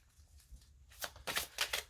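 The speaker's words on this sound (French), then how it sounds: "vu que je suis en train de battre les cartes" Tarot cards being shuffled by hand, several quick papery riffles building in the second half after a quieter start, close and fairly loud.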